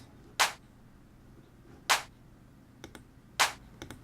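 Layered clap samples strike together in a produced beat, three sharp bright hits evenly spaced about one and a half seconds apart, with softer clicky percussion ticks between them, no voices.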